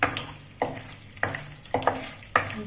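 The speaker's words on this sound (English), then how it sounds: "Just mix this well." Whole spices — cinnamon sticks, cardamom, bay leaf, chili, black pepper and long pepper — stirred in a clay kadhai for chana masala, giving close, rhythmic scraping strokes about every half second with a soft sizzle underneath.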